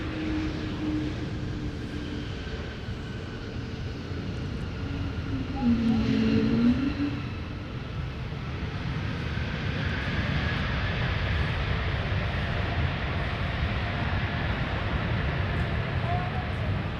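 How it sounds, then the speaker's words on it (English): An Airbus A220 airliner lands at Minneapolis–Saint Paul airport, a broad steady jet roar that swells slightly partway through and then holds as a distant rumble, with faint voices in the background. "And that A220 coming in from Dallas, Fort Worth, the Metroplex."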